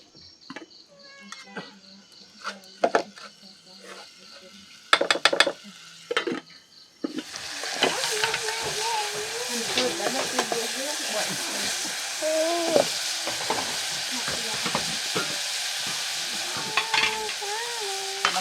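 Dry-roasting ingredients in a pan, quiet scattered clicks and taps at first, then a broad continuous hiss with scraping stir strokes from about the midpoint onward, close by, with a voice speaking over it at times.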